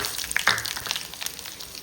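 Spices tempering in hot oil for mudakathan dosa: a light, crackling sizzle with a few sharp pops, fairly faint and close, with no talk.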